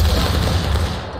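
A dense, loud rifle volley fired on command erupts as one sustained roaring burst, close and heavy, with no talking during the blast.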